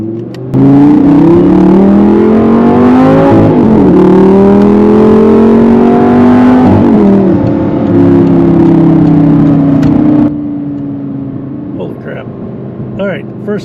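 An Audi R8 accelerates hard through its gears, a loud close engine roar climbing in pitch in repeated runs with quick shifts between them, then settling to a lower cruise, with someone talking over it.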